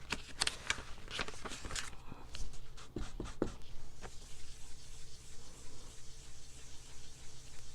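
A blending brush is pressed hard against paper, giving quick scratchy rubbing strokes and squeaks in an uneven run that thin out into softer brushing, close up and with no talk.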